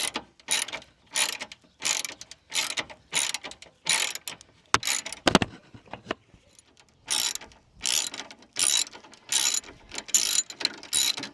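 A 3/8 inch drive ratchet on a 10-inch extension with a 12 mm socket works radiator bracket bolts on a 2010-2014 Subaru Outback 3.6, sounding as close, repeated bursts of ratcheting clicks with short pauses between strokes.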